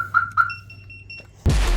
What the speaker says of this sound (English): one of the most annoying alarm systems you could ever deal with